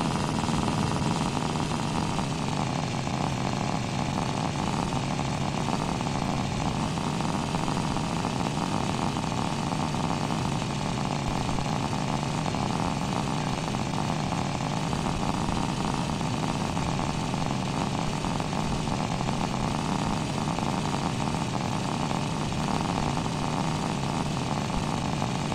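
A moped engine runs steadily in the driving game The Long Drive, a constant droning buzz at even loudness throughout with no change in pace and no talk.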